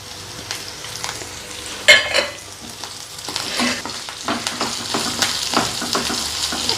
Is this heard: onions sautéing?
yes